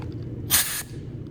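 A short burst of compressed air from a nozzle on the air hose of a pneumatic orbital sander, blowing sawdust aside: one close, loud hiss of about a third of a second over a low background hum.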